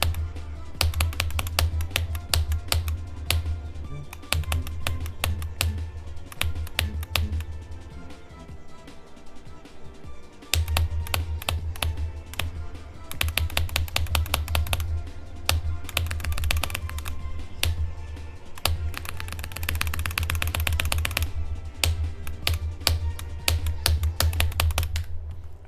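Rapid mouse or key clicks from Geometry Dash play, sharp dry taps in fast irregular bursts over a steady low game music track, pausing briefly near ten seconds before resuming.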